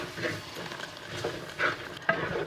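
Tomato masala stirred in a clay pot: soft scraping and shuffling strokes in an uneven rhythm, close and fairly quiet, with a faint sizzle beneath.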